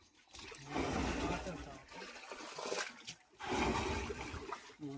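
Water gushes into a sprayer tank on a farm in bursts, loud splashing flow that pauses briefly between surges, with speech mixed in.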